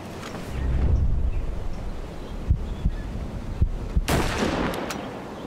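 Rifle fire aimed at a deer in the video game Hunting Simulator 2, a low booming swell followed by several sharp thumping reports and a brighter crack near the end, moderately loud with no voices.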